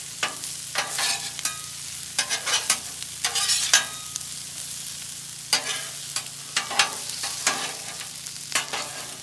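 Potatoes fry on a Blackstone griddle with a steady soft sizzle, broken by repeated scraping and stirring bursts from a spatula, close and clear with no talking.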